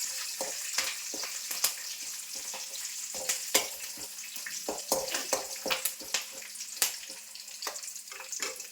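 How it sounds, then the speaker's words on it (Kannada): Curry leaves crackle and sizzle in hot oil in a home kitchen pan, a steady frying hiss punctuated by sharp pops and spits spread across the whole stretch, with no voices. "ಅದು ಫ್ರೈ ಆದಮೇಲೆ ಸ್ವಲ್ಪ ಕರ್ಬೇವಿನ ಸೊಪ್ಪು ಹಾಕೊಂಡಿದ್ದೀರಾ"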